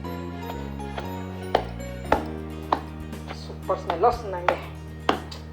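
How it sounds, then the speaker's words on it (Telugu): Roasted tamarind pods are pounded by hand in a kitchen, giving a series of sharp, close thuds that come at an irregular, unhurried pace over a steady low background hum, with a short remark spoken partway through. "టైం పడుతుంది దంచడానికి, కానీ ఇలానే దంచుకోండి చక్కగా, బాగుంటుంది."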